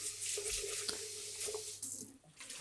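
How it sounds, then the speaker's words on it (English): A kitchen tap runs steadily into a sink for a quick rinse, a close hissing stream broken by a few splashes and clinks. "let's just give this a quick rinse"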